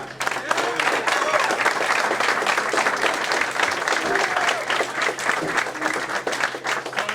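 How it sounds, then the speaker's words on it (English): Sustained applause from a crowd at an athletic achievement ceremony, steady dense clapping throughout with a low hum underneath and some voices mixed in. "just a round of applause for all of you"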